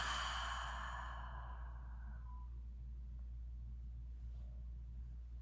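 A slow breathwork exhale, a long soft breathy sigh that tails off over about two seconds, close and alone, over a low steady background rumble.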